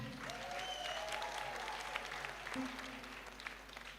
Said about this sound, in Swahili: hebu tumpiga makofi